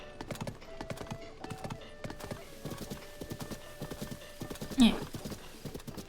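Horse hooves clip-clopping at a steady galloping rhythm in Zelda: Tears of the Kingdom, with a short whinny near the end and a brief spoken word over it.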